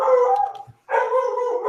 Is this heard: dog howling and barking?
yes